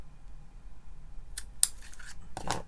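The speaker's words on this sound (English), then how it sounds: "my scissors got stuck on the tape" Scissors snipping paper and tape while making handmade Christmas cards, a few short crisp cuts and rustles close by in a quiet room.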